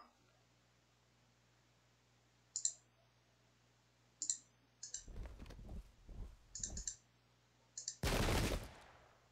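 Musket volley fire in the video game Pike and Shot, Swedish versus Russian battle: a few short crackling bursts, then a sharp loud volley crash near the end, separated by faint clicks and quiet gaps.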